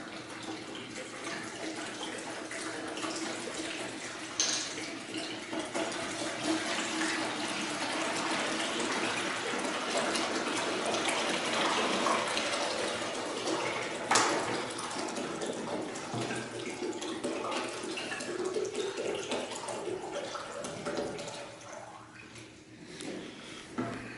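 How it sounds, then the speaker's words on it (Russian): Water pouring steadily into a bucket while preparing foam concrete from a dry construction mix, a continuous splashing, hissing flow heard close up for about twenty seconds before it tapers off. "Вначале заливаем воду."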